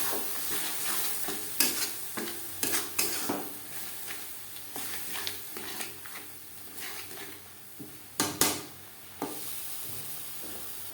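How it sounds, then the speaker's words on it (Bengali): Spice paste with onion, tomato and a little water fries on a medium flame for a fish curry, a low close sizzle broken by repeated scraping and stirring knocks of the spatula, with no talk. "চার 5 মিনিট মিডিয়াম ফ্লেমে মশলা বেশ ভালো করে কষিয়ে নেব"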